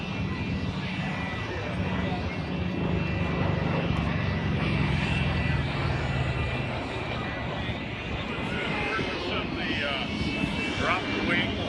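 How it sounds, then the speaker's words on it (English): Propeller engine of a Corsair warplane flying low over the Chino Planes of Fame airshow, a steady loud drone filling the whole clip amid crowd and talk. "Corsair needs to get a bit lower."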